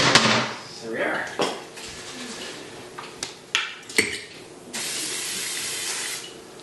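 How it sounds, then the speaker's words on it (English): Spray vegetable oil hisses from an aerosol can into a bowl while making pizza, in several short bursts mixed with clinks and knocks, ending in a longer steady spray; people are faintly audible. "we'll take our spray vegetable oil and spray the bowl"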